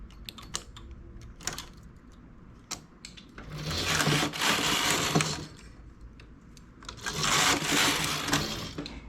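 A domestic knitting machine works a twisted cable pattern: a run of sharp clicks and ticks from the needles, then two long, loud swishing carriage passes across the bed, with no speech.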